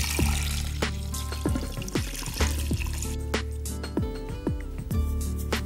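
Cold water pours into a pot for potatoes in a continuous close stream with a rising, bubbling gurgle and repeated sloshing pulses as the pot fills.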